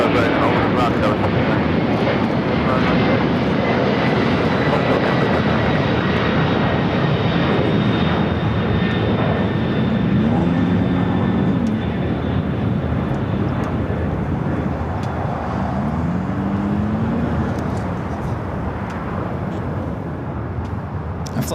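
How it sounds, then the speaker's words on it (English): A Boeing 767-300ER jet airliner on flight 991 to JFK at LAX roars steadily and loudly, a broad continuous engine rumble that holds for about twenty seconds and eases slightly near the end, with faint chatter mixed in. "Flight was heading to JFK, flight 991 and the 767 at 300ER"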